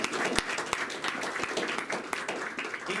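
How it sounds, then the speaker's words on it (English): An audience applauds steadily at a National Weather Service Milwaukee weather event, with many hands clapping evenly for about three seconds. "round of applause for Ian first and foremost."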